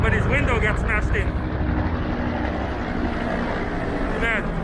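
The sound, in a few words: helicopter flying overhead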